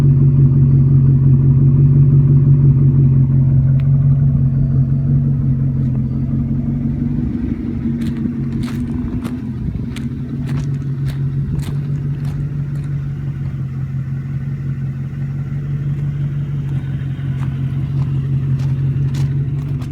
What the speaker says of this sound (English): the car runs decently smooth at idle, even though it does have a knock when you rev it up